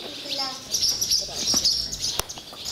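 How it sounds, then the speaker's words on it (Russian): Swallows chirp and twitter in a grain warehouse, a dense flock giving rapid overlapping calls close by, with a voice speaking briefly among them. "Вон сколько их набилось. Ласточек."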